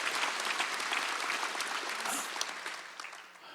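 A church congregation claps during a Sunday worship service, producing a dense, even patter of many hands that carries on steadily and fades slightly toward the end, heard at a moderate distance.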